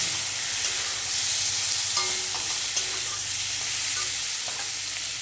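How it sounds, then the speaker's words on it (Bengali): Fried potato pieces in a pan with turmeric and chili powder being stirred, a steady close sizzle with occasional light scraping clicks from the spoon throughout, with no talking. "আলুটা ভাজা হয়ে গেছে হলুদ গুঁড়ো লঙ্কা করে দিয়ে দিই"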